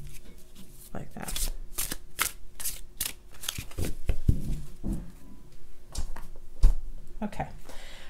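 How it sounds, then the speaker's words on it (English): Tarot cards are riffled and shuffled in several quick bursts, crisp papery flutters close up, with a person talking quietly between them. "And then I may follow up with a shuffle"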